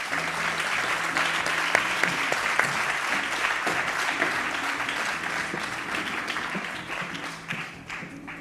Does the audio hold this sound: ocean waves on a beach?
no